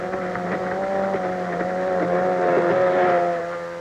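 A loud, steady outboard racing boat engine roar drones continuously with a slight rising and falling pitch, running at speed in a 1953 outboard marathon race, no voices.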